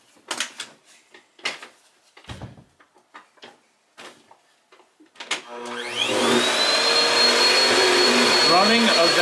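Corded vacuum cleaner powered through a power inverter from a Goldenmate LFP12100 lithium camping battery, switching on after a stretch of talk and handling clatter, then running as a loud, steady whine to the end.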